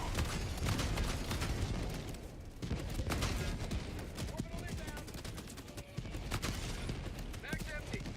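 Rapid automatic gunfire in a co-op shooter video game, dense bursts of shots firing continuously until the magazine runs dry, loud and close with brief gaps, heavy mechanical clatter, and occasional talk beneath.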